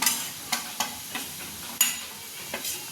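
Chicken sautéing in oil with turmeric, Kolhapuri chutney and garam masala for dry chicken, giving a steady soft sizzle broken by several sharp scraping stirs of a spoon, close and alone.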